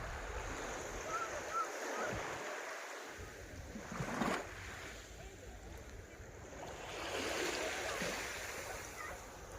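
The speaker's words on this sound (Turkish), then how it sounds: "Evet denizin içindeyiz arkadaşlar" Broadband wash of surf with swells rising and falling, mixed with wind rumble on the microphone and a faint engine-like drone.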